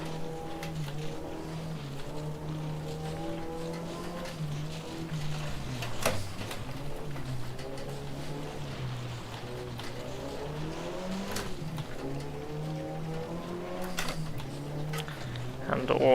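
Rally car engine in the Richard Burns Rally video game, revved hard with a broken radiator, droning and rising and falling through gear changes for a long stretch, with a co-driver and commentators talking over it throughout.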